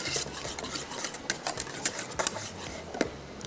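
A mashed mixture, part of a steak-and-mash dish, being stirred in a bowl: a quick run of close, sharp clicking scrapes of utensil against bowl, fairly faint.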